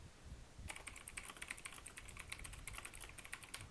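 Quiet, rapid clicking of keys being typed on a computer keyboard, starting after a brief pause and continuing in an uneven stream of close, soft taps with no speech.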